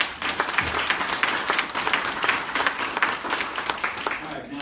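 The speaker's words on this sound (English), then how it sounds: "can we give Piedmont a quick round of applause?" Dense, continuous applause from an audience at a Christmas parade press conference in Nashville, steady and close throughout, with some voices faintly mixed in.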